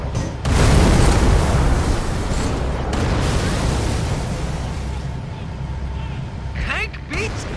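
A single heavy boom from a Halo 3 tank cannon, a sharp blast that swells into a long rumbling tail and slowly fades, with a voice talking over it.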